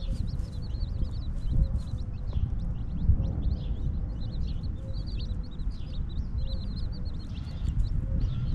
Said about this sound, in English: Those are the little chicklets making that little chirping noise.